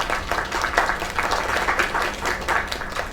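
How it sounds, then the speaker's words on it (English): Audience applause: dense, steady clapping from a crowd, sustained throughout at moderate loudness with no voices. "Another round of applause."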